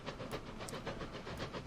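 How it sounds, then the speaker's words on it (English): A train pulls into a station in the Transport Fever 2 video game, a steady rolling rumble with soft hissing and faint rhythmic clicks, fairly quiet and heard on its own without talk. "There's our train coming in."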